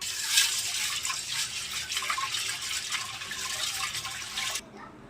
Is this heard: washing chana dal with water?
yes